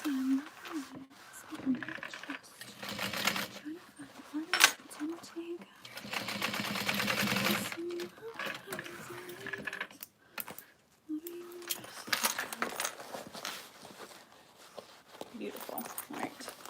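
A sewing machine re-stitching the bottom seam of a backpack runs in short bursts and one longer steady whir, with a person talking throughout and light handling clatter between runs.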